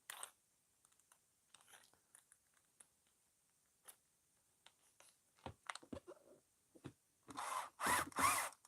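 Power drill fitted with a 4mm bit boring through material after a smaller pilot hole, starting with scattered taps and clicks, then revving in loud, close bursts toward the end.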